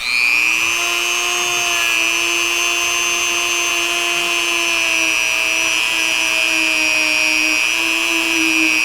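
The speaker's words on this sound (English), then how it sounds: "I'll typically put a little bit of flits on my polishing bit, rub a little bit on the part that I want to polish up" A power tool spins a polishing bit loaded with compound against a burred Stoeger coach gun action part, giving a steady, loud high-pitched whine that holds constant for the full stretch with no talk.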